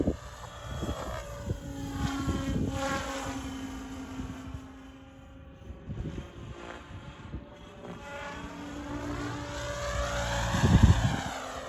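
A small motor whines steadily overhead, its pitch rising and falling as a Blade 700 Fusion radio-controlled helicopter swoops past, with some wind buffeting the microphone.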